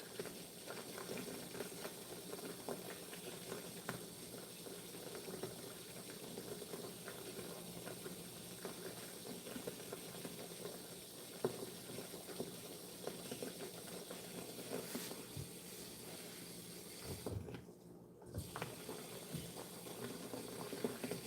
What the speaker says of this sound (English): It's taking a while for the water to get heated up.